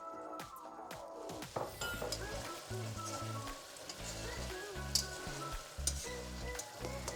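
Tofu stirred and mixed through thickening sauce in a hot wok for Ma Po Tofu with minced beef, steady loud sizzling with scraping spatula strokes and occasional clinks against the pan.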